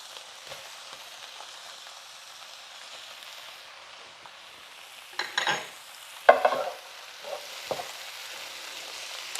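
Sausages and vegetables frying in a pot, with a steady sizzle throughout and a few louder bursts of stirring and scraping near the end.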